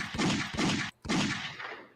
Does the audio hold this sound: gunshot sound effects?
yes